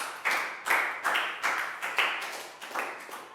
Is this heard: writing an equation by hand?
no